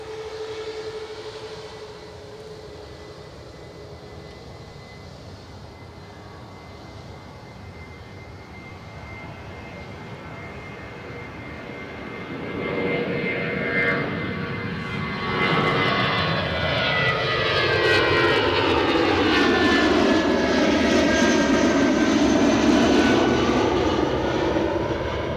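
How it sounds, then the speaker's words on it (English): British Airways airliner rolling at Edinburgh Airport, its engines building from a steady distant hum into a loud, swelling roar with sweeping tonal whine as it passes near. "Got another one rolling. British Airways are moving."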